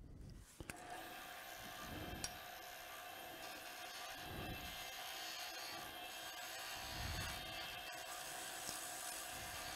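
A wood lathe spins a pen blank between centers with a steady whirring hum, while a tool rubs and scrapes against the turning wood in rhythmic passes.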